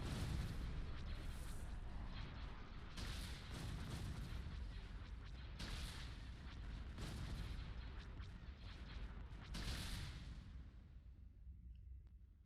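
Ion cannon fire in the space strategy game Empire at War booms out in repeated heavy bursts, one every two to three seconds over a continuous rumbling battle din, loud and without speech.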